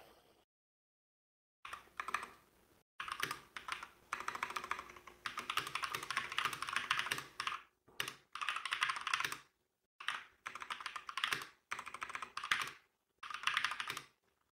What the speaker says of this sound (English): I forgot how loud my my keyboard is.